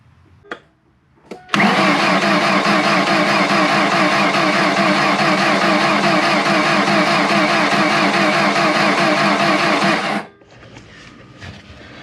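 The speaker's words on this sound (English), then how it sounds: "go ahead and turn the engine over 5 to 6 times, prime the oil pressure" A rebuilt car engine with new pistons is cranked over by the starter to prime oil pressure, a loud, steady mechanical whirring lasting about eight seconds after a couple of short clicks, then cutting off.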